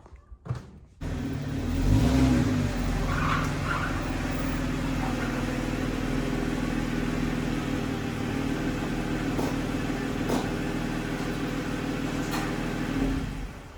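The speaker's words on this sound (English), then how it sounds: "let me show you how I drive into the garage" A Jeep with its top removed pulls into a garage, a low steady engine rumble after a brief knock at the start, with faint rattles along the way, moderately distant and continuous, no speech.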